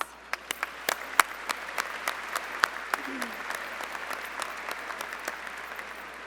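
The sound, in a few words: applause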